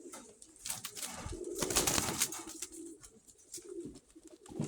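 A hen pigeon coos softly and fairly close, low murmuring calls rising and falling against a quiet background with no talk.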